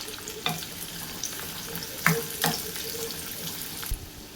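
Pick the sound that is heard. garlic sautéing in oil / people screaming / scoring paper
garlic sautéing in oil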